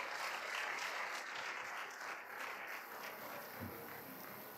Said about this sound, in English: let's once again give them a big round of applause.